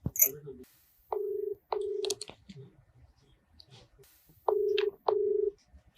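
A phone dials out for a call with two pairs of steady electronic beep tones separated by pauses, plus faint clicks and some quiet talking in between.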